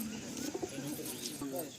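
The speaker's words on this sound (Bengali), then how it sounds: "এই একটা দেখুন, কালো পায়রা ফিমেল।" A black female pigeon coos close by in low, repeated soft throaty calls, with a person talking alongside.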